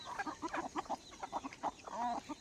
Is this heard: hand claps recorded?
no